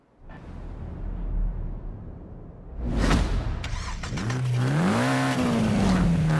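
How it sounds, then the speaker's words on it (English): Mitsubishi Eclipse in Forza Horizon 5, first a low rumble, then a sharp whoosh and burst of revving as it takes off, the engine note rising and falling through gear changes while it accelerates hard, loud and close. "going to take a small test drive in this car"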